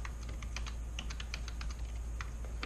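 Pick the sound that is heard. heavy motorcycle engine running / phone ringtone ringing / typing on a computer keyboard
typing on a computer keyboard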